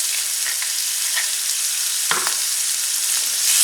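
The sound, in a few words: peppers sizzling in oiled skillet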